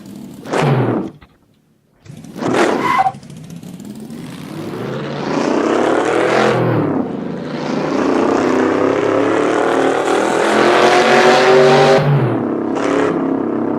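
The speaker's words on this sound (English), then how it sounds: "So we've got a nice sound to the car." A modded video game car engine revs up in sharp bursts, then holds a loud, rising roar with gear-like pitch sweeps, heard up close without talk.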